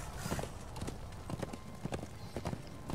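A horse in the video game Darksiders 2 clip-clopping along with rhythmic, evenly paced hoofbeats, fairly close and moderately loud over a low background.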